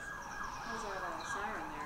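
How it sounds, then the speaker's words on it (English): A siren from an emergency vehicle passes outside during an LPGA golf tournament in Los Angeles, a steady wailing tone sweeping up and down at moderate distance, continuous over a background of open-air ambience. "That was a siren there."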